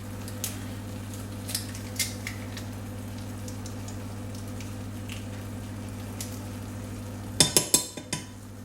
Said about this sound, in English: I'm going to add the Aduki beans that I've drained, and also a teaspoon of miso paste